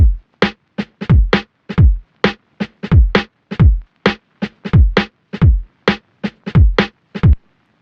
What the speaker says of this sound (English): that's just a pretty basic kind of syncopated kick and snare pattern at 132 BPM